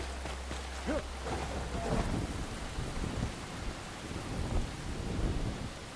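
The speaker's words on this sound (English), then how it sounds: "All rainy and nasty out over here." Rain and thunder in the video game Enshrouded: steady heavy rainfall hisses across the whole stretch while low thunder rumbles roll and swell beneath it, fairly distant and continuous.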